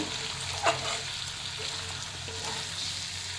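Pumpkin flower curry sizzles and crackles in hot oil in a pan, a steady close frying hiss broken by a few soft scrapes and knocks of stirring.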